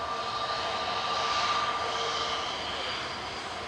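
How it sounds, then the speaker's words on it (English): An EasyJet Airbus A321 jet departing gives a moderate, steady engine roar with a thin high whine, swelling slightly and then fading a little toward the end. "it's an EasyJet A321 departing OE ISG back to Lisbon with flight 6728"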